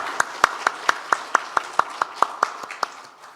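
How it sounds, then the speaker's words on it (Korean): A church congregation at a Christmas thanksgiving service claps in unison, about thirteen sharp, evenly spaced beats at a steady rhythm that fade at the end, clear and fairly close with no talking. "하나님께 감사의 박수 올리겠습니다."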